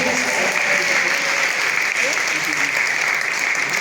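Church congregation applauding and cheering for Jesus during a French-language service, a steady, dense wash of clapping with crowd voices sustained throughout at close, loud level.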